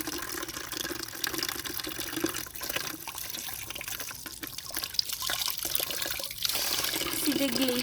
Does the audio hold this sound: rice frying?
no